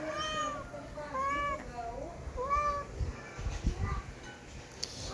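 A cat meows several times in drawn-out, rising calls, fairly close, followed by soft clattering and rustling.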